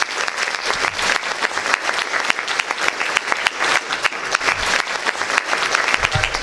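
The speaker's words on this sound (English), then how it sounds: "they deserve a big round of applause" An indoor audience at a health programme event gives a sustained round of applause, dense and steady clapping throughout at moderate volume, with no speech over it.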